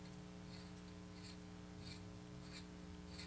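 A lead sharpener twirled around the exposed lead of a mechanical pencil gives a faint, close, continuous scratchy rubbing with soft repeated scraping pulses, alone and quiet.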